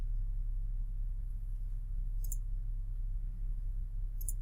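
A computer mouse clicks twice in agent workspace software, with sharp, faint clicks spaced about two seconds apart over a steady low hum.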